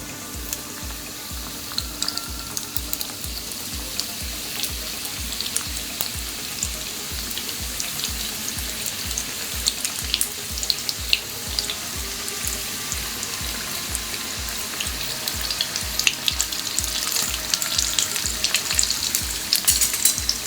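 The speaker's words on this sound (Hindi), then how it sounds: "तो अब मैंने समोसों को फ्राई करने के लिए तेल गरम कर लिया है।" Mutton keema samosas deep-frying in medium-hot oil, a steady close sizzle with crackling pops and a faint regular low thumping running throughout.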